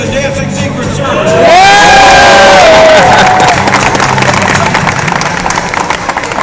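An arena crowd erupts into loud cheering and whooping, with a prominent whistle-like shout, then the roar continues steadily at a slightly lower level.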